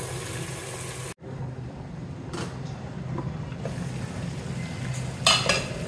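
Chicken fries in a pot for biryani, a faint steady sizzle with occasional scrapes and clinks of a utensil stirring against the pot.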